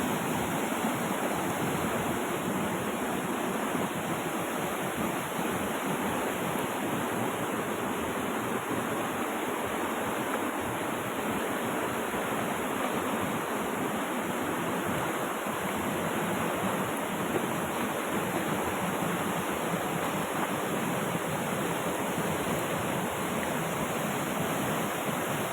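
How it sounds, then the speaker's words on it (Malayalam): Heavy rain pours down in a dense, unbroken hiss that stays steady and loud for the whole stretch, with no voices over it. "ഇവിടെ നല്ല മഴയാട്ടോ, നല്ല അടിപൊളി മഴയാണ്."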